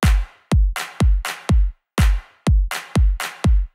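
Sharp, loud hand claps repeating in a Euclidean pattern of three hits over eight steps, looped several times with short decaying tails and even silences between groups.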